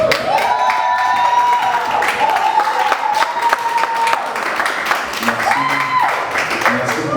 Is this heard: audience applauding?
yes